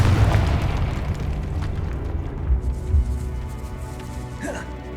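Fiery blast from the Confringo spell in the Hogwarts Legacy game, a deep rumbling boom with low thuds that decays into a roiling noisy tail, loud and close.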